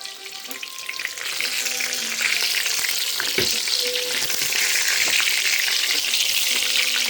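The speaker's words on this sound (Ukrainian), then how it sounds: "поки котлети смажаться" Steady, loud sizzling of meat cutlets frying in a pan, a continuous crackling hiss with occasional sharper pops and faint background music.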